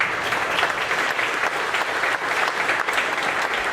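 Steady applause from an audience, a dense wash of many hands clapping continuously throughout.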